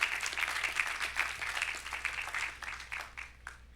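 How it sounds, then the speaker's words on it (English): An audience at a lecture claps in a steady, dense ovation at moderate distance, holding fairly even before thinning and fading toward the end. "A round of applause for Jennifer, too, huh?"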